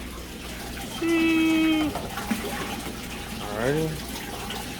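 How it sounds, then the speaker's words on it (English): An aquarium tank fills with water that runs steadily underneath, while someone speaks briefly over the flow. "this tank's almost done filling"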